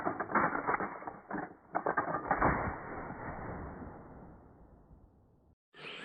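A Winchester 1897 pump-action shotgun is worked by hand, producing several close, sharp mechanical clacks and sliding rattles in quick bursts, then a fading creaky tail before a brief gap.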